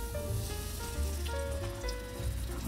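Hot oil sizzles in a pan while dried cauliflower and pork belly are being cooked. A steady, close crackling hiss runs throughout, with a faint tonal hum underneath and no talk.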